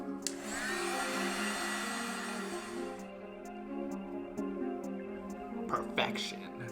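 A hot-air heat gun warms a glued Air Max 90 sneaker sole and upper before clamping. It gives a steady whirring blow, moderately loud and close, that stops partway, followed by faint handling clicks with someone speaking.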